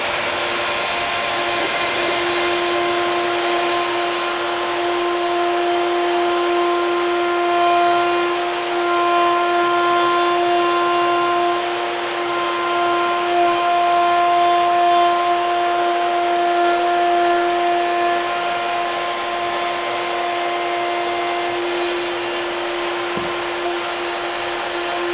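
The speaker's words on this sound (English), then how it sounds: "I can bring my piece down on top of the router bit, feed across, stop at the leading edge of the router bit" Router spinning a bit to cut a stopped dado groove in a wooden shadow box piece, a loud, steady high-pitched whine with a strong tonal hum that holds evenly for the whole stretch, with slight swells in level.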